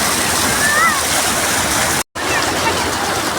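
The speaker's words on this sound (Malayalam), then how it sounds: "വെള്ളച്ചാട്ടത്തിൻ്റെ മുകൾ ഭാഗമാണ് കേട്ടോ വെള്ളം ചാടണ" Steady, dense roar of rushing water close by at the top of a waterfall, filling the whole clip with only a momentary dropout partway through.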